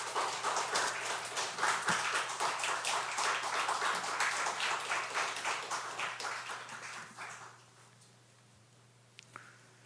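Audience applause welcoming a speaker at a church revival meeting, dense steady clapping that swells, then gradually thins and fades to near silence, ending with a couple of stray soft knocks.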